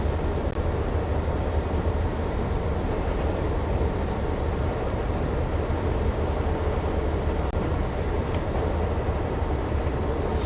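A train locomotive cruising at reduced throttle in a video game, giving a steady, continuous low rumble and rolling drone that stays even throughout, with no voices.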